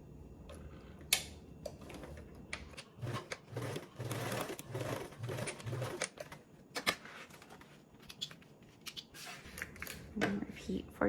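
A sewing machine runs a seam with a 3/8 allowance along a short fabric edge, its rapid stitching coming in short bursts against steady background noise, with no one speaking.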